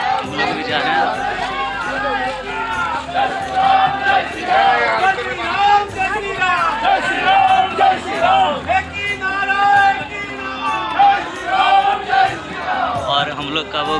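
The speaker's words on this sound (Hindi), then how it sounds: "देख सकते हैं काफ़ी संख्या में भीड़ है" A large crowd of pilgrims at the Ayodhya Ram temple, a dense continuous babble of many voices with shouts and movement, loud and close throughout.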